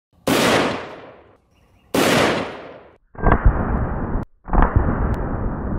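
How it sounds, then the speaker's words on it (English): Two sharp, very loud .300 Win Mag rifle shots fired at a steel elevator cable, each followed by a long fading echo, then two further loud bursts of impact and rumble close together. "I'm gonna shoot 300 Magnum a couple more times."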